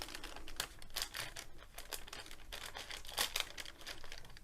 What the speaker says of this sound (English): I'll get the good old blunt scissors out and cut it open